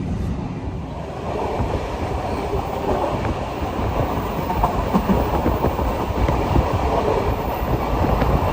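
The Ambarawa Ekspres train runs along the rails with a steady, dense rumble and faint clatter heard from inside the carriage, continuous and unchanging throughout, with no voices.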